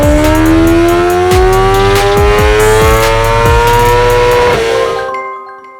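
A stock 2023 BMW S1000RR sport motorcycle with an SC Project slip-on exhaust revs on a dyno, a loud sustained engine note climbing steadily in pitch before cutting off and fading.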